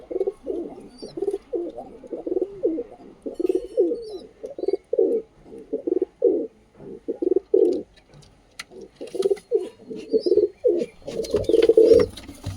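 Pet pigeons kept at a home coo in repeated soft, throaty bursts close by, the calls rising and pausing in an irregular rhythm against a quiet background.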